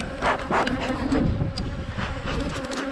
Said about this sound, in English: No sign of swarming, loads of bees.